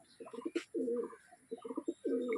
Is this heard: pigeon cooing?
yes